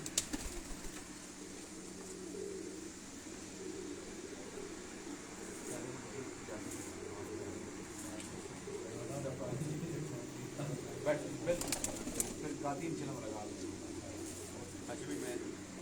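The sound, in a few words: red pigeons cooing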